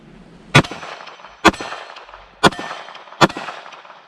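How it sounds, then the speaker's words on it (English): Four sharp, loud gunshots from a Palmetto State Armory Dagger pistol fitted with a Desert Tactical budget Glock trigger, fired outdoors at steel targets, spaced roughly a second apart with brief echoing decay after each. "Right now, I'm just going to shoot at whatever I feel like."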